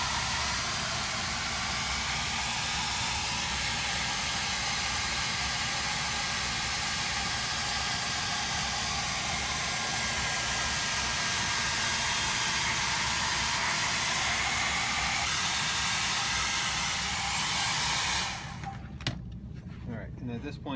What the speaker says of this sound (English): So I'm going to use the hair dryer